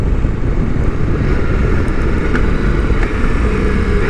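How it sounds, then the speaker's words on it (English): Ducati Multistrada V4S engine droning steadily and close while downshifting on an urban ride, a continuous loud rumble with wind roar and no clear voice over it. "Very nice downshift."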